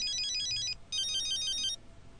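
A phone ringtone trills in two bursts of rapid high electronic tones, separated by a short pause, clear and close over a quiet background.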